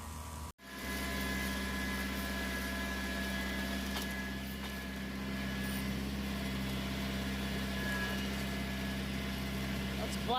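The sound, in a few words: Black Rain boomless sprayer nozzle running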